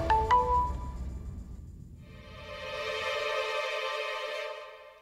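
A phone call rings out after a few brief tones, a repeating electronic ringback tune that rises in and holds for a few seconds before fading, heard alone without talk.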